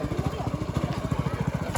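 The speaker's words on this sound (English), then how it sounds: "And that's why it's crazy noisy. Powered by a little engine." A small engine powering a Cambodian bamboo train putters close and loud in a fast, even chugging pulse.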